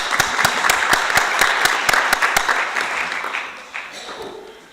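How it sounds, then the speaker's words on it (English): An audience at a panel discussion forum on social inclusion at a Nairobi conference applauds the panelists, a steady wash of clapping that begins loud and gradually thins out toward the end. "Please help me give them a hand of applause"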